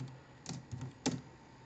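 A few quiet computer keyboard keystrokes, ending in a firmer enter key press, as a Linux terminal install command is typed; sparse clicks with no talking.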